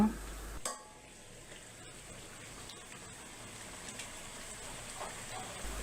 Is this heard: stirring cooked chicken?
yes